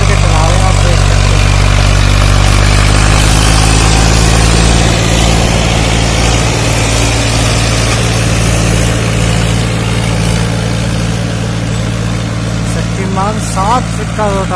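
A Mahindra 265 tractor drives a Shaktiman 7 ft rotavator at about 2200 rpm in first low gear, with a loud, steady low engine drone and mechanical churning throughout, and someone talking over it.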